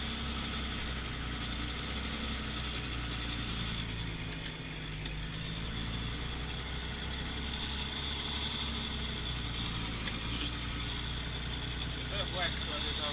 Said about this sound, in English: turn on my supply, and then I start using my macerator